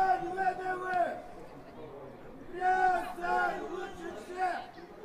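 A football fan shouting chants in the stands at a women's match between Ryazan-VDV and Torpedo Izhevsk, a single loud voice calling out in repeated bursts over faint crowd noise.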